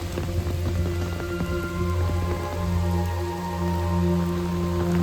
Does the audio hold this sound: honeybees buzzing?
no